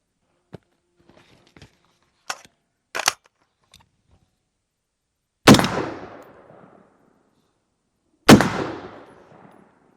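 Two loud, sharp gunshots from a short 5.56 rifle with a roughly 9.69-inch barrel, spaced a few seconds apart, each followed by a decaying echo, after faint clicks and handling noises.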